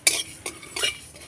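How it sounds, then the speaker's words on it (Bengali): Whole spices dry roasting in a dry pan over low heat, stirred with a utensil in three quick scraping strokes, close and clear with no talk. "শুকনো খোলায় ভেজে নেব সব কিছু নাড়াচাড়া করে"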